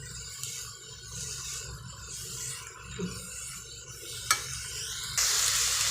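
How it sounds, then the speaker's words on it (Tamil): Paste of coconut, cumin and garlic being sautéed with radish greens in a pan, giving a steady soft sizzle with stirring scrapes, a brief louder clink near the end and a brighter hiss in the final second. "அரைச்சி வச்சு அந்த தேங்காய் சீரகம் பூண்டை இதரோடு சேர்த்து கொஞ்சம் வதக்கி விட்டுக்கிறோம்"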